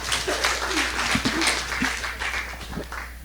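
Applause from an audience at a live-streamed Ateneo de Manila GSB event, a dense burst of many hands clapping that holds steady and eases slightly toward the end.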